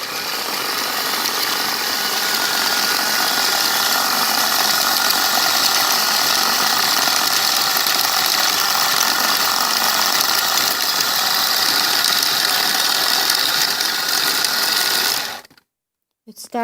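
A battery- or mains-powered sidewinder bobbin winder runs steadily, a loud, even mechanical whir winding thread onto a bobbin, then cuts off abruptly as it stops automatically.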